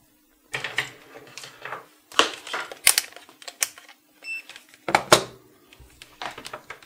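A small tool cutting a copper track on a keyboard circuit board, giving sharp scraping clicks and scratches in irregular bursts, close and fairly loud, with brief pauses between strokes.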